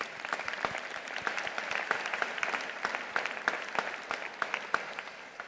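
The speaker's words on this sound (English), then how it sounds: "let's give our distinguished speaker another round of applause." A commencement ceremony audience claps steadily, individual claps distinct within a moderate, even round of applause that carries on without letting up.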